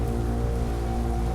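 Heavy rain beats down steadily through a stormy night around a barn, a dense continuous wash of drops with a low rumbling bed beneath, loud and unbroken for the whole stretch with no voices.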